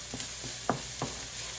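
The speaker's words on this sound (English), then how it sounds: "I'm going to stir that in. You want that garlic to just cook for just a minute or two." Garlic sizzles in a hot pan with a steady frying hiss, broken by a few soft scrapes and knocks as it is stirred, the cooking close and moderately loud.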